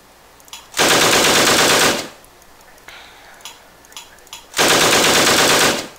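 Two long bursts of rapid automatic gunfire in the PC game Call of Cthulhu: The Wasted Land, each over a second long and loud, separated by a quieter stretch of small clicks and scattered impacts.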